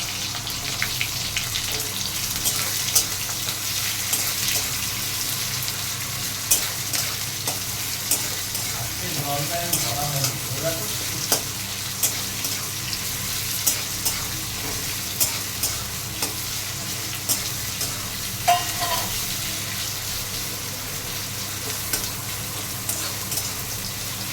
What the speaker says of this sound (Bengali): জিরেটা দিয়ে হয়ে গেছে, এর মধ্যে পেঁয়াজ দিই।